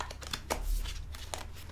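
Cards from a Mythos Tarot deck of Greek gods riffle and slide in several quick, close bursts of crisp paper rustling at moderate volume, with no voice heard.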